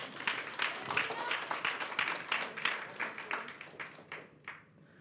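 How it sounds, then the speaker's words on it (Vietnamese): A church congregation claps hands in praise during a worship service, with a steady rhythmic beat of many hands together that slows and fades away at the end. "Hãy vỗ tay ngợi khen Chúa"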